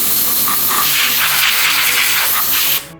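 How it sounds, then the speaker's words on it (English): Compressed air blasting dust off the circuit boards of a 1999 server: a loud, steady, broadband hiss that holds for nearly three seconds, then cuts off abruptly. "For the PC boards, we tried using compressed air without much success."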